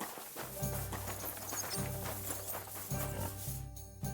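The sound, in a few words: horse hooves, video game Kingdom Come: Deliverance II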